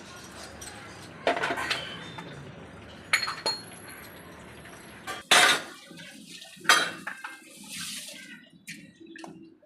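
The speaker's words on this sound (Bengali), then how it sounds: "এবার এই ঠাকুরের বাসনটা ধুয়ে পুজো দিয়ে নেবো" Brass puja utensils being washed under running water, with a steady trickle broken by several sharp metallic clinks and clatters as the vessels knock together, close by.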